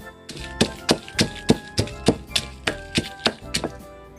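Steady pestle strikes pound long beans in a mortar for Isan bean salad, about a dozen sharp, evenly spaced thuds up close, with no voices over them.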